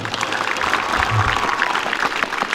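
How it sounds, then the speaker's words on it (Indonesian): A crowd at a high school flag ceremony claps steadily throughout, a dense, even patter of applause with a faint voice underneath. "Tepuk tangan dulu semua."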